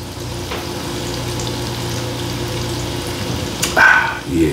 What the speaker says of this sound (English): Sounded like my skillet is finally up to temp and it's doing its thing on these onions.